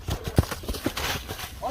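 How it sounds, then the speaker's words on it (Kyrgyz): Hooves of a ridden horse clip-clopping in a short uneven run of thuds, close by and mixed with a voice talking over them. "Атты чаап көрсөтөбүз, ака."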